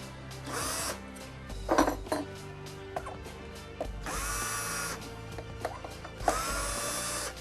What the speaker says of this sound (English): Sounds like my drill's dying.